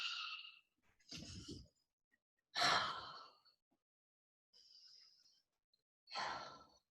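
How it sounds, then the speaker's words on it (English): Slow, deliberate breaths drawn in through the nose and released through the mouth during a qigong class, several airy inhales and exhales spaced out with silent gaps between. "Inhale through the nose, exhale through the mouth."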